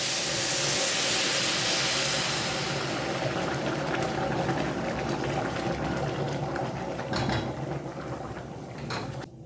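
A pot of rice and water simmers on the stove, giving a steady hiss with soft bubbling and a few faint clinks, no talking.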